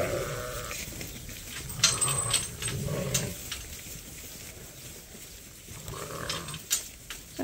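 Sheep and ewes on a farm make soft, scattered bleats amid low rustling, with a few louder calls standing out close by and others fainter in the distance.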